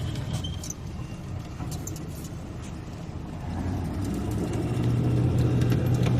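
Pickup truck in four-wheel drive revving for a one-wheel peel, a steady engine roar that swells louder in the second half with a low drone and no talking.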